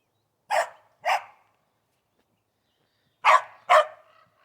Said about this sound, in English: And a barking corgi.